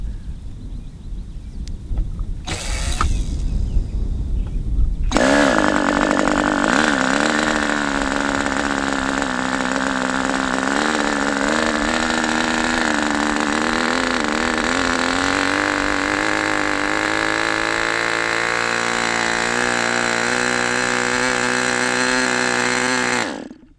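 Raduga 10RU engine on its first run, starting with a short starter whir and brief bursts before catching, then roaring steadily at mid-throttle on a rich setting, loud and close, with a slight drift in pitch before a sudden cut-off.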